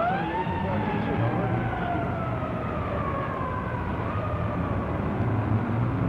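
An ambulance siren wails, rising and falling steadily over a dense roar of highway traffic, loud and continuous from start to finish.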